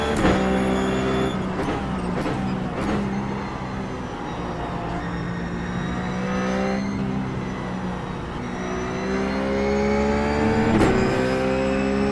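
Ruf GT3 race car engine at Spa Francorchamps in the iRacing sim, a steady loud drone rising and falling in pitch through upshifts and downshifts, with sharp gear-change blips and no voices.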